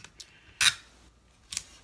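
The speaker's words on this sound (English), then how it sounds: "let me just grab a little piece of tape here." A small piece of tape is torn off during card making, two short crisp rips about a second apart, close and fairly loud against a quiet background.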